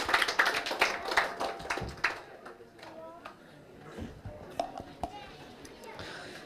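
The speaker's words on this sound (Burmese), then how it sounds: "လက်ခုပ်ကျဲတီးလို့ရရနော်" A church congregation claps together in a quick burst of dense hand claps that fades into a few scattered claps and taps, heard in a room with some murmuring voices.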